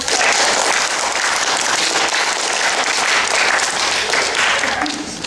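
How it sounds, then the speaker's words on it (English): An audience claps in sustained, dense applause at a stage history comedy show, steady and loud throughout before easing slightly at the end. "Give yourselves a big round of applause."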